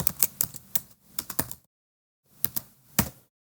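Keystrokes on a computer keyboard while coding, a quick irregular run of close clicks, a brief pause, then a few more taps, with no talk over them.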